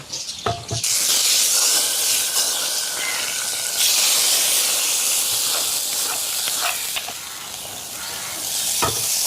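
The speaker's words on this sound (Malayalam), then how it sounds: "നമുക്കിതാ നമ്മുടെ ചട്ടിയിലേക്ക് ഒഴിച്ചു കൊടുക്കാം കേട്ടോ" Hot tempering of mustard seeds, fenugreek and chillies poured into a pan of tamarind curry sets off a sudden loud, hissing sizzle that bursts in and stays strong and steady, with a few clinks of the pan.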